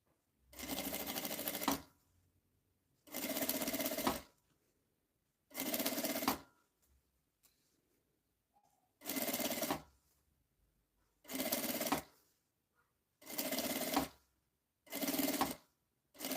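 Sewing machine stitching a zipper and printed lining onto a small makeup bag, running in seven or eight steady bursts of one to two seconds each, separated by short quiet pauses.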